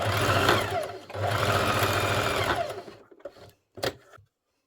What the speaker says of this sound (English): Slide it under the sewing machine